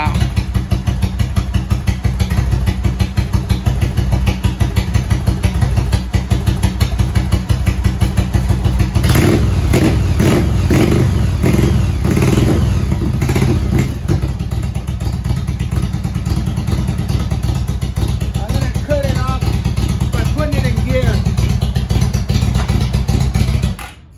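A motorcycle engine idling after a jump start from a Milwaukee impact-tool battery, a loud close steady putter with clattering, roughening midway, with someone talking over it.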